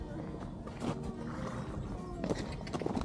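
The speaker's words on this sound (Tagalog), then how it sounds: "Ayan, ito yung mga kabayo nila." Horses at Camp John Hay in Baguio City, with soft hoof clip-clop and occasional snorts or whinnies close by, set against a steady outdoor background with some scattered voices.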